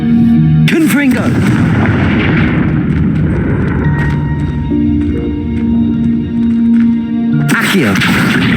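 A Confringo fire spell blasts out in Hogwarts Legacy, a loud burst at the start and another near the end over a dense, continuous game soundscape of rumbling effects and music.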